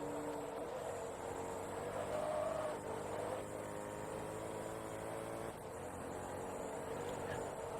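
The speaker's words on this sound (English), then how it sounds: "this car doesn't really sound very much like a supercar. It sounds a little bit... I don't know, it sounds a little bit rough" A Mercedes supercar engine in Forza Motorsport 2, racing in a 20th-century supercar invitational, drones with a rough, steady, moderately loud tone that holds through the run with slight shifts as it pulls along the track.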